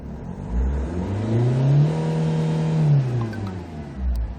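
A Kyron SUV diesel engine revs up from idle, rising to a steady high drone and then dropping back down, close and loud.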